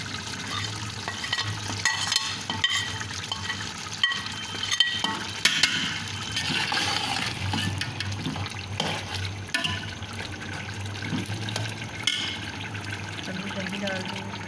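Ground onion frying in oil in a pot for mutton korma, with a steady sizzle and repeated scraping strokes of a spoon stirring through it, moderately close, continuing throughout.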